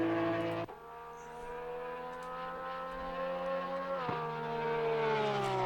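Porsche 911 GT3R race car engine in Assetto Corsa Competizione at Imola, a loud in-car flat-six howl climbing steadily through the gears with two sharp upshift breaks, close and continuous.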